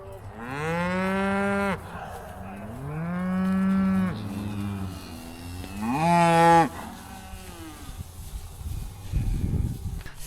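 Cattle lowing on a farm pasture: three long, loud moos, close by and separated by short pauses, then quieter rustling and shuffling toward the end, with no voices.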